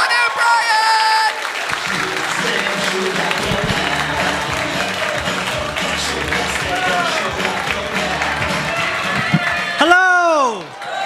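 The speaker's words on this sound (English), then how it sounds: "you're going to start the applause and cheering" A comedy club audience claps and cheers steadily for a comedian coming on stage, a dense continuous wash of crowd noise for about ten seconds before dropping away, with a brief rising swoop of sound near the end.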